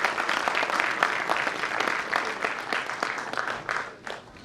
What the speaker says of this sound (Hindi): जोरदार तालियों के साथ महामहिम जी का स्वागत करें।